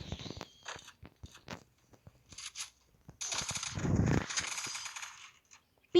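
Gunfire from the mobile video game Free Fire, with a P90 submachine gun mentioned: scattered sharp shots early on, then a dense, loud burst of rapid fire lasting about two seconds, followed by a sudden final crack.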